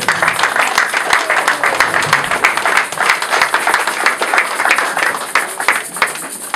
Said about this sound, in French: Acclamons pour notre Seigneur